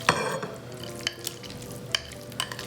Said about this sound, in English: And so now we're gonna fold in the tuna.